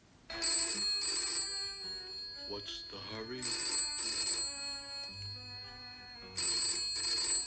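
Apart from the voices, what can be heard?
telephone ringing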